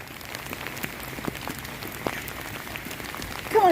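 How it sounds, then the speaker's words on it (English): Heavy torrential rain pours steadily outdoors, a dense hiss with scattered nearby drops pattering on surfaces, continuous and fairly close, no talking. "Come on, it's raining a bit too hard now, Ox."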